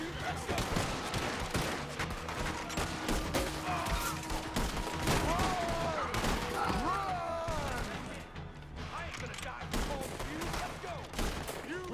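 Rapid, dense gunfire from a shootout in Red Dead Redemption 2 rattles on without pause at moderate loudness, with voices talking over the shots.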